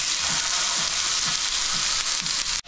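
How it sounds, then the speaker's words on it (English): Loud, continuous sizzling of food frying in a hot pan, a steady hiss close up with faint rhythmic stirring beneath. "Ready for the sizzle?"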